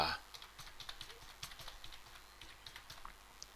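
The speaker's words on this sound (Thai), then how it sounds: "พิมพ์ backslash 2 ตัว" Steady typing on a computer keyboard during Windows network setup for moving Express accounting software to a new server, with quick clustered keystrokes that are close and moderately quiet.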